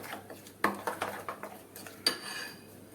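A spoon clinks and scrapes against a bowl in quick, uneven strokes, stirring salted potato dhokla batter, with soft mixing sounds between the knocks; no talking.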